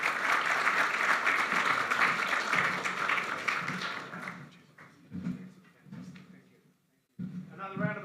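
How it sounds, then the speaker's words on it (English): Applause from a Bondi chamber of commerce gathering, a burst of crowd clapping that fades out after a few seconds, followed by scattered noises and voices. "Another round of applause for John"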